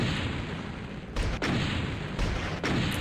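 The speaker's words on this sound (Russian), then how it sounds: "Почему а, выстрелы как-то то быстро, то медленно?" Rapid bursts of gunfire crackle over a constant roar of noise in the video game River Raid 3D during an air attack, with several sharper shots breaking through at uneven intervals.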